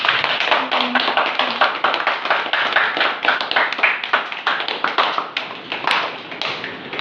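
Rapid clapping from a group at a chess academy, honouring a student who earned a classical rating; dense, even hand claps run continuously at close range with no talk.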